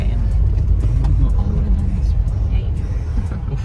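A car's engine rumbles as it is driven, a low steady road drone close inside the cabin with faint clicks, and a person talks over it throughout.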